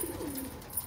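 Soft cooing from one of two newly acquired pet pigeons, a brief low murmur close by with faint background noise and no talking.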